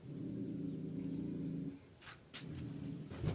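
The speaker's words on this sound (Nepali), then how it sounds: "पुरा घुरिरहेछ त, कहाँ घुरिरहेछ?" A dog growls low and steady for under two seconds somewhere close by in a hillside village, fairly faint and alone, then a few brief rustling clicks follow.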